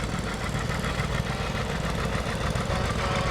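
A small Waterloo tractor engine runs at a parade at a fall fair in Port Alberni, a steady, dense, rumbling chug close by with constant loudness.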